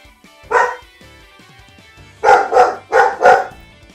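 A single sharp bark from a pet dog indoors, then after a pause two quick double barks, loud and near, with no speech.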